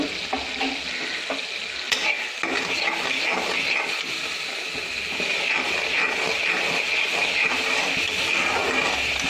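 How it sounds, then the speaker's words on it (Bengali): Spice masala with tomato, Kashmiri red chili powder, salt and garam masala fries in a pan while being stirred, a continuous close sizzle with scraping stirring strokes throughout. "এবারে মশলাটা ভালো করে কষিয়ে নেব।"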